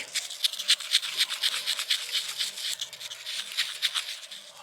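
A compound mixed by rubbing back and forth during brake and switch work on a car, a fast rhythmic scratchy scraping repeated steadily at close range.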